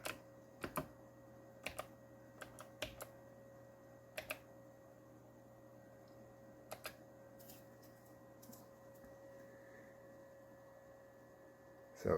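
Sparse clicky taps on a computer keyboard attached to a 1998 Cyrix MII PC, isolated keystrokes and small bursts over a steady electrical hum, faint and fairly quiet.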